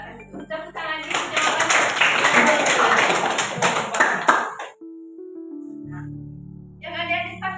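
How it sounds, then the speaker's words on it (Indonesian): Children clap together in a dense burst of applause for several seconds, loud and close, before it stops and a voice speaks afterward. "Tepuk tangan"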